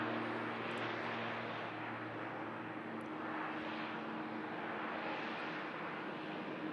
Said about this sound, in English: Here's the ATR heading back down to Guernsey.